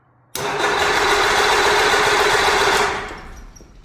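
A Rotax 503 engine fitted with a repaired starter cranks and catches, roaring loudly and steadily for about two and a half seconds before winding down, with no talking.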